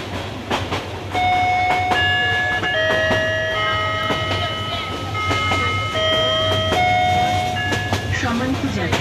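An intercity express train, the Kishoreganj Express, runs on rails in Bangladesh with a steady low rumble, rhythmic clickety-clack taps and high metallic squeals heard from inside.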